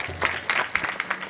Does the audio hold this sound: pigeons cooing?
no